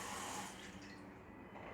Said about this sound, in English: you want to fill the bowl with water, tap water